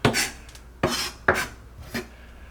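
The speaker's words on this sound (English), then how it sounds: "And then maybe give it another rough chop" A knife roughly chopping mashed roasted garlic on a board, four sharp close strikes spaced irregularly with quiet scraping between them.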